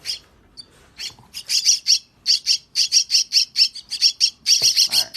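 A young myna chick calling insistently while being hand-fed, rapid shrill squawks repeated in quick pulses, close to the mic and loud, with faint handling sounds underneath.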